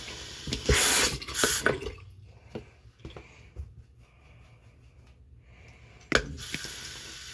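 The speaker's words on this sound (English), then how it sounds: "I want to wet the brush a little bit" Water splashes and drips as a brand-new face mask brush is dipped and wetted at a sink, with a burst of running water at the start and another sharp splash near the end, fainter drips between.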